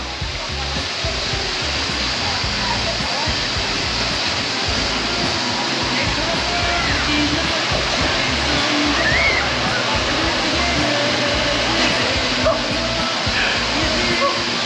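An icy mountain river rushes in a steady, loud broadband roar at close range, with a voice faintly audible beneath the water noise.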